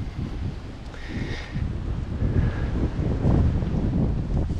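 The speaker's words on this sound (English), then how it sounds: "the wind noise right now is actually kind of nice, as are the waves" Low wind buffets the microphone steadily while waves wash and roll in the background on Patong Beach, Phuket, Thailand, growing a bit louder toward the end.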